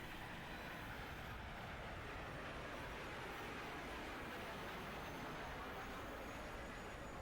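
A train runs in the video game Lost Odyssey, producing a steady, dense rumble and rolling noise throughout, fairly faint and unbroken, with no clear talk over it.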